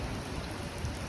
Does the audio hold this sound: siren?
no